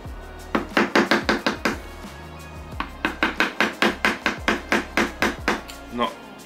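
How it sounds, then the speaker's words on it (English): A chisel carves raised lettering into a wooden bread board, heard as a close, rhythmic run of sharp knocking strikes in quick bursts with short pauses between them. "then we can just kind of use the same chisel."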